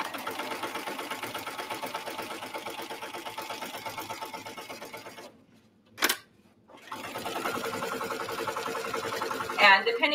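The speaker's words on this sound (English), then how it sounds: "I'm going to backstitch at the top of each side and then sew down" Sewing machine stitching fabric for a laptop sleeve, backstitching at the top of each side then sewing down; a steady close mechanical whir with a pause, a short click, then stitching resumes.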